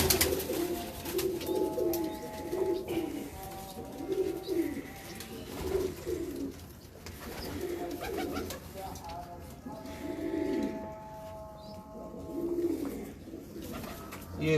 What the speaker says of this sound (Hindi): ये एक बड़ा कबूतर है जी